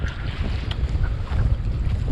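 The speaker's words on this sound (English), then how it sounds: "It's blowing about 35 knots right now." Strong wind of about 35 knots at sea blows over the boat and buffets the microphone, a loud, continuous, gusting roar with a low rumble and no voices.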